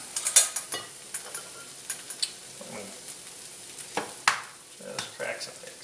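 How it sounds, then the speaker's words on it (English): Food roasting in butter in a pan for a frittata, heard as a soft, steady sizzle broken by scattered clicks and light scraping clatter from stirring, fairly quiet and close, with no talking. "just a little bit of kind of roasting in a pan, a little butter"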